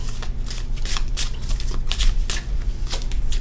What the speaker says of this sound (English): So let's give a good shuffle